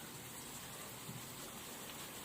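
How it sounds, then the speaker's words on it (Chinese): Steady rain falling during a long wet spell at home, an even, dense hiss with no breaks and no voices. "好不容易出一点点的太阳又下雨"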